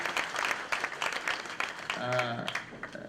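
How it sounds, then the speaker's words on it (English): A round of audience applause for the chairman at a lecture on leadership and security, scattered clapping from a seated crowd, with a brief tonal sound partway through as the clapping continues. "Another warm and beautiful round of applause for the chairman."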